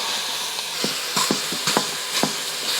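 Italian sausage sizzles in a pan, a steady frying hiss broken by several sharp stirring scrapes and clatters, close and moderately loud with no talk.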